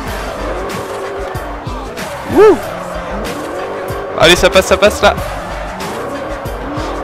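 A Bugatti Veyron drifts in Forza Horizon, its tires squealing in a long wail and then a rapid string of short screeches over steady engine roar, while an excited voice shouts throughout.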